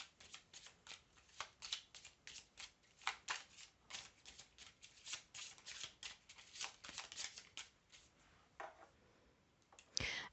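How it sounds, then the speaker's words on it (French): Close, quiet shuffling of a stiff deck of tarot cards in a love reading, with repeated riffles and slaps in uneven bursts over about ten seconds and no talking. "elles sont un peu dures à mélanger ces cartes, mais on va y arriver"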